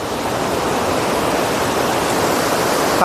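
Water from the overflowing Karedha dam rushes in a steady, loud, broadband roar that continues unbroken from start to finish with no voices.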